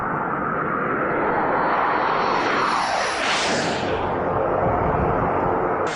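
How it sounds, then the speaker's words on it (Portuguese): A commercial jet aircraft roars past, a loud, steady broadband rush whose pitch sweeps downward as it passes close overhead, filling the whole stretch with no voices. "nós alugamos um jato comercial"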